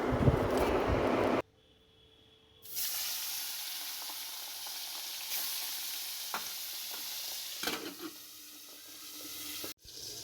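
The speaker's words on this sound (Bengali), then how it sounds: "মাছগুলো এবার ভেজে নিই" Small hilsa-like fish sizzle and spit steadily in hot oil in a pan during a village home cooking session, with louder bursts of frying near and no talk.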